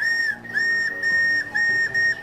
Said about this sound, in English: stop with all the whistling around here